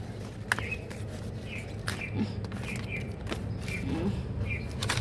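Short, high bird chirps repeat every half second or so over a low background hum, with an occasional soft thump.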